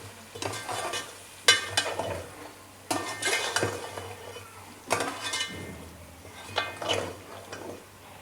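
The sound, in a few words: masala frying and being stirred in a pot for beef korma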